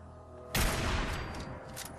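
A sudden loud burst of gunfire in Fallout 4 at about half a second, followed by a sustained rattling, echoing barrage that slowly tails off.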